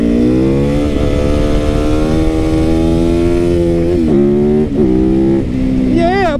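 A fuel-injected motorcycle engine holds a steady, buzzing drone that climbs slowly, then blips up and down in quick revs toward the end, close and loud.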